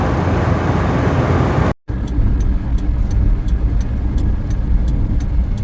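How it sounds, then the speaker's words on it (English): A tractor passes on a road and is heard from inside a moving £200 car, a loud steady road and engine rumble with a brief cut near the start. "It's a tractor."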